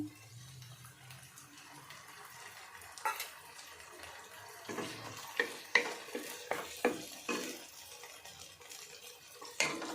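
A tomato and dried red chili paste fries for pasta in a pan, a soft continuous sizzle broken by several sharp clicks and scrapes as it is stirred, with no talking.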